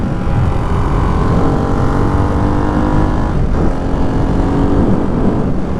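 A Ducati Hypermotard 698 Mono RVE single-cylinder motorcycle rides along a road, its engine droning steadily beneath constant loud wind and road rush, with a brief dip partway through and no talking.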